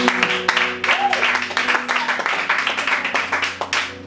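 A church cell-meeting congregation applauds steadily, a dense, continuous patter of many hands clapping over a sustained musical drone, with voices mixed in.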